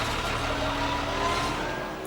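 Nico Rosberg's Mercedes F1 car runs on track during 2015 pre-season testing at Jerez, a loud continuous high-revving engine passing close by, with no talk over it.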